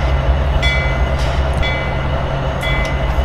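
A CSX GE AC6000CW diesel locomotive in Train Simulator 2019 runs with a loud, steady low engine rumble, and short high squeals or tones cut in at intervals over the drone.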